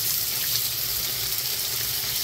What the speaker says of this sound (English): Now we're gonna open the water and, oops, and you wanna let it run with hot and cold, 15 seconds each.